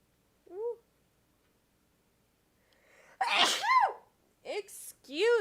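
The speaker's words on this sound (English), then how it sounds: "There was the sneeze." A person sneezes loudly at close range, a sharp burst followed by a second quick sneeze, with a faint brief vocal sound earlier in the otherwise quiet room.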